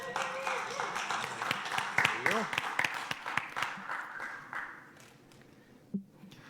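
Audience applause greets a speaker being brought up at a consulting-world talk, a dense burst of clapping that peaks, thins out toward the end and leaves a lone tap near the close, with some voices mixed in.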